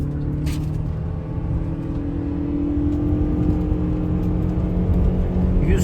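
A Lexus RX350h 2.5 hybrid accelerates hard from a launch in sport mode on icy roads, a steady whirring hum with a rising tone over a loud rumbling road and wind roar, no talk.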